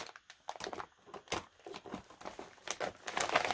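Someone cuts open a sealed plastic pack of thrift-store craft supplies. It makes a string of quiet, close crinkling and snipping sounds in irregular bursts.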